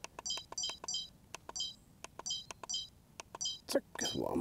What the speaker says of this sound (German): Den Piepton müssen wir gleich nochmal loswerden.